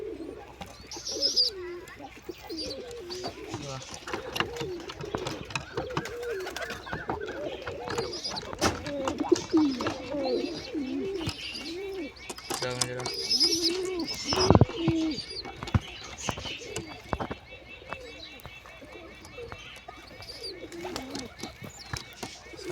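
Pigeons at a nest holding eggs and chicks give repeated soft cooing calls close by, mixed with light chirps and rustling. A person speaks intermittently over the birds.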